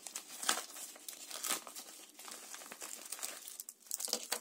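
A postal package from China is opened by hand, with faint, close crinkling and tearing of plastic wrapping in irregular rustling bursts across a quiet room, with no talk.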